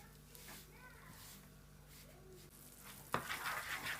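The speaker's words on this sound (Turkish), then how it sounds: "ara ara karıştırarak kavuralım" Flour roasting in a pan for kuymak, stirred now and then with a utensil, giving soft scraping and faint sizzle under a quiet voice, with a louder clatter near the end.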